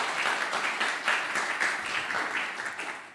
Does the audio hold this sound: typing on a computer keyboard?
no